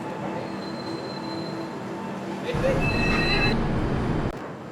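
16332 Express train at Haripad station, wheels squealing and rumbling as the train slows, the noise swelling louder midway then dropping off abruptly near the end.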